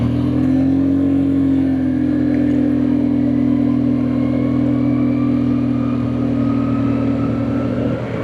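A Suzuki Skydrive 125 scooter engine idles steadily and close by, holding a continuous low, even hum with no revving for the whole stretch.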